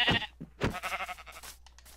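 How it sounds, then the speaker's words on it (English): A cow in the Minecraft video game is struck twice with a hammer, each hit drawing a short pained game-cow cry, the two sounds loud and close with brief gaps between them. "Here's a cow."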